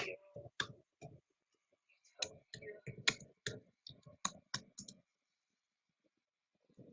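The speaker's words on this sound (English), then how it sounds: "Let me type right here." Rapid irregular clicks of a computer keyboard being typed on, coming in short bursts over a few seconds before stopping, fairly close and moderately quiet with no talking.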